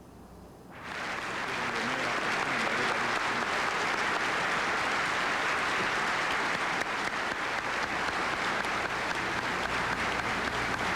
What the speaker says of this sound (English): Sustained applause